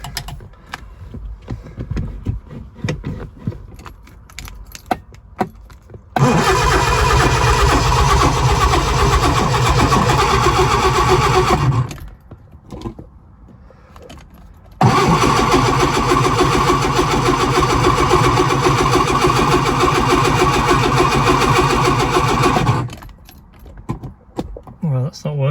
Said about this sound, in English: So let's put the spark plugs back in and give it a go and see if it will start.